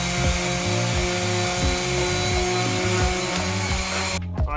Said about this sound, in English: Right now, I'm hitting this with the 80 grit sandpaper.